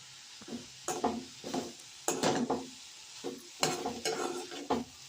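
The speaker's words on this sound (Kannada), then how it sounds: "ಈಗ ಸ್ವಲ್ಪ ಉಪ್ಪು ಹಾಕಿ ಬಾಡಿಸ್ಕೊತಾ ಇದ್ದೀನಿ" Vegetables sautéing in a pan with salt and grated coconut, a spoon scraping and stirring in repeated strokes over a soft sizzle, close up and moderately quiet.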